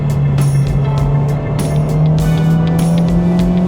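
A JDM Honda Civic Type R engine revs hard and loud, its steady droning note climbing gradually in pitch as it pulls, with no talking.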